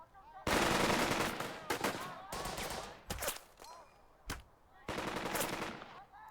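Bursts of automatic gunfire at an enemy squad in the World War II game Burden of Command, several loud rattling volleys separated by brief pauses, close and sharp.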